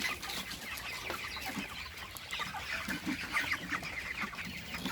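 Several chickens cluck and chatter continuously, close by, with a busy farmyard bustle and no talking.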